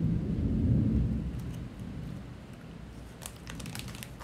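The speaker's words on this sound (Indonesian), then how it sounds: "di sini seperti hujan badai guys, jujur ini gede banget hujannya" Heavy thunderstorm rain heard from indoors behind a window: a deep rolling rumble of thunder rises and fades over the first seconds, then steady rain patter and faint crackles continue.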